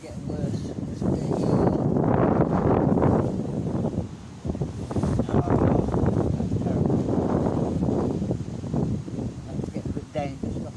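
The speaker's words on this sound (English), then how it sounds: "this wind is just getting worse" Gusting gale-force wind buffets the microphone at a carp fishing spot, roaring loud and steady with surging rushes throughout and a brief lull midway.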